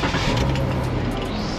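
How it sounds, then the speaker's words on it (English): A Dodge Ram Promaster van engine cranks and starts, a steady low idle rumble running throughout at close range with no voices over it. "So now I'm gonna start the car up."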